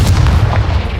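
A Confringo fire spell explodes in Hogwarts Legacy as a loud, close burst of booming, crackling blasts that runs densely for about a second with no voice over it.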